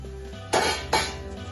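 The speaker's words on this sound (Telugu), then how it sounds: "మూత తీసి" A lid lifted off a cooking pot while making dal khichdi, giving two quick metallic clinks close together, close and crisp, with a faint kitchen hum around them.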